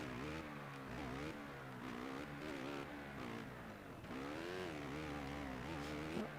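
Motocross motorcycle engine in the MXGP video game revs and accelerates repeatedly, its pitch rising and falling in waves, loud and continuous with no talk.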